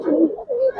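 Pigeons coo in a close, steady pair of low, rounded phrases inside a loft where young birds are kept and flown, with no talk over them.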